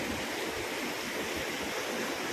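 Floodwater pours steadily along the river below the overflowing Terna dam, a dense, continuous rushing roar with no pauses and no voices over it.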